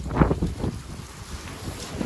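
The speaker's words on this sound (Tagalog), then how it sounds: "Hangin." Wind gusts across an open farm in Kuwait, a short, close, uneven rush of buffeting against the microphone with soft low thumps and no talk.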